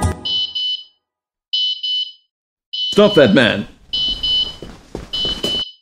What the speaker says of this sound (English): Or you can activate the alarm manually.